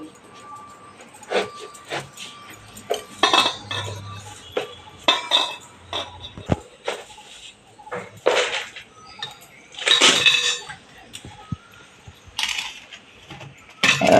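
Knife cuts into a whole watermelon at home, giving repeated crunchy slicing and clinking knocks on a board, close and fairly loud, in bursts over about fourteen seconds.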